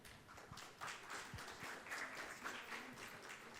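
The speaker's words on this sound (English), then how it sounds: "Can we have a louder round of applause, ladies and gentlemen, for Rishi Jaitley?" A round of applause for a guest presenter at a Social Media Week conference session, steady and moderately distant, filling the room throughout without voices.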